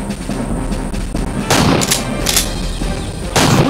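Gunshots from the Primeval Hunt arcade shooting game crack out in a few sharp bursts over a busy, noisy arcade background, loud and close.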